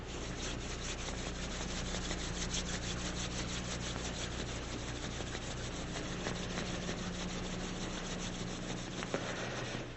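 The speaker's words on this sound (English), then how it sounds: "rub your hands." Hands rub together during an eye yoga session, making a quiet, continuous dry friction sound over a low steady hum, with no speech.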